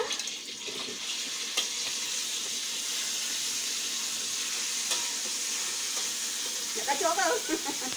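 Sambal tumis with anchovies (ikan bilis) frying in a pan, a continuous bright sizzle with faint stirring scrapes throughout and a burst of crackling popping near the end.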